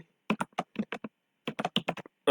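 Rapid keystrokes on a computer keyboard while C code is typed, arriving close and crisp in two quick bursts separated by a short pause, with no voices.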